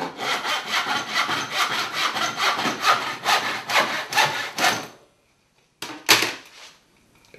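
A hand saw cuts through a wooden board in quick, rhythmic back-and-forth strokes for about five seconds, then a pause and a couple of final scraping strokes, loud and close with no voices.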